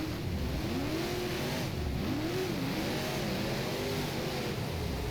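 A super late model race car engine in the rFactor racing game at Smoky Mountain, droning steadily and rising and falling in pitch as it revs through the corners, loud and continuous.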